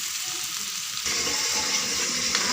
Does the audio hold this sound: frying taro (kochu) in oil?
yes